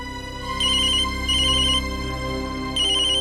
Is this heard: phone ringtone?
yes